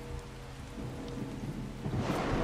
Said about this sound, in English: Ooh, first storm.